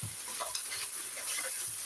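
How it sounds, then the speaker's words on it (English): Food stir-frying over high heat in a pan, a continuous close sizzle with soft scraping and shuffling of a utensil tossing the ingredients, steady and unbroken throughout. "Okay, so we're going to just stir fry this."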